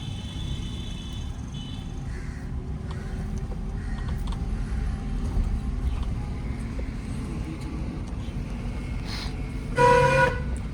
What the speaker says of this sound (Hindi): हॉर्न हमेशा थोड़ा लंबा बजाया करो, आप हल्का बजाते हो।